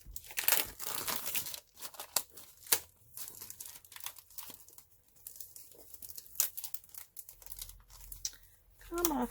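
Opening a purple box of stamping cards, with crinkling and tearing of packaging in close bursts, some sharp crackles and quieter handling between them, while someone talks.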